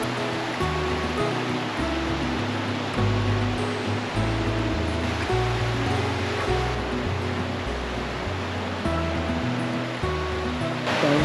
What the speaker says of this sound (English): How beautiful are these cascading waterfalls?